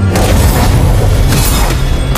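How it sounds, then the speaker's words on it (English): A turret being destroyed in Mobile Legends gives a very loud, dense explosion, a heavy, sustained low rumble with crackling bursts spread through it, close and continuous with no talk. "Your turret has been destroyed."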